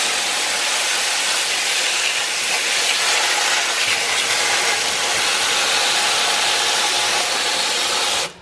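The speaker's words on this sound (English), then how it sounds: "here I am rinsing off my vegetables like so" Vegetables rinsed under a running kitchen tap: a loud, continuous broadband hiss of flowing water that holds steady for about eight seconds before cutting off abruptly.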